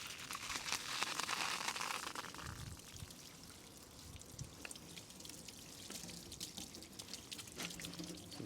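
Water splashes and pours steadily over a window pane during a rinse after concrete removal, with a heavier gush at the start easing into trickling and dripping, close by and with no talking.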